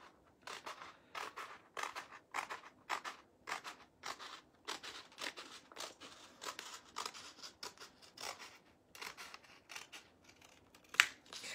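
Scissors snip through Christmas decor material in a quick, steady series of close, crisp cuts, quiet and with no talking.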